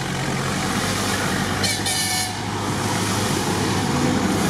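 A train horn toots in a brief burst midway as a train rolls past on a rainy forest track, over a steady loud rumble of engine and rail noise.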